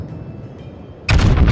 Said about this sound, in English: I think I'm going to take one more shot at the Myoko.